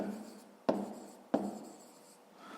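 Pen strokes on paper while writing out a math exercise: two sharp taps, each followed by a short fading scratch, close and quiet with no voices.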